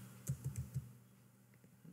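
Quick taps on a computer keyboard, a short burst of four close keystrokes followed by a few lighter clicks, quiet and alone in the room.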